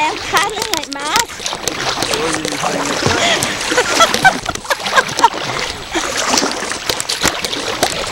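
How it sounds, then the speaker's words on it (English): Kayak paddling in Morar Bay: repeated close splashes and sloshing water from hurried strokes, with people talking and calling out loudly over the paddling. "Honestly, I am paddling like mad."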